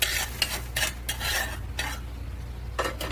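A spoon scrapes and stirs roasted chickpeas in a hot pan, a series of short scraping strokes with faint sizzling between them, close and clear with no talking.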